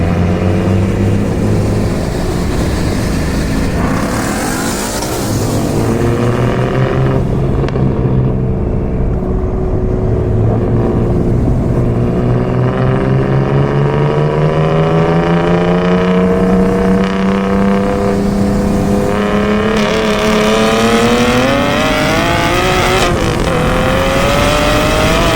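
Single-turbo BMW F80 M3 accelerating hard while racing, engine pitch climbing repeatedly through gears, loud and sustained with no talk.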